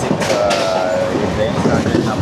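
A Konark Express train rolls along the rails with a steady, loud rumble and rattle of wagons, with a faint voice beneath the noise.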